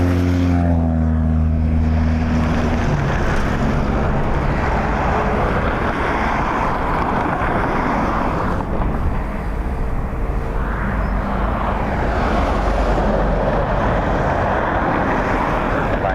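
An aircraft at Dublin Airport on a windy day gives a loud, continuous, rumbling roar with a rushing broadband quality, while a lower engine drone fades out early on.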